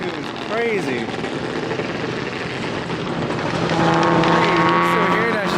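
Several car engines revving hard in a rev battle at an outdoor car event, a continuous loud roar that swells louder midway with sustained high revs, heard from some distance with crowd noise around.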